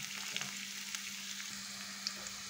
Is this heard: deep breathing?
no